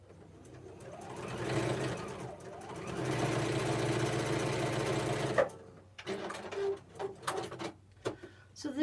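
A sewing machine stitches a seam in a long steady run of fast, close needle clatter with a slight pause partway, then halts and is followed by scattered handling knocks and rustles.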